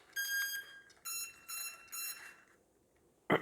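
Several bright electronic beeps from an E-flite A-10 UMX RC plane receiver entering bind mode, in quick bursts, each a steady high tone, followed by a short click; close and clear with no talking.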